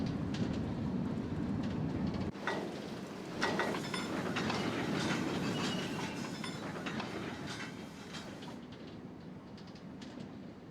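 An EE Type 3 diesel locomotive shunting in Train Simulator, with a steady rumbling engine and rolling rail noise, a sharp clank near the start, continuous and fairly loud with no talk.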